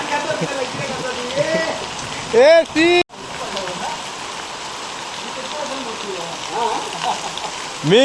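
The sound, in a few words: summer hailstorm rain in Konkan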